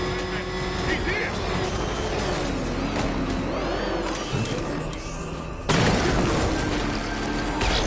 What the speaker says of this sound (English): I sure hope the bat died in that explosion.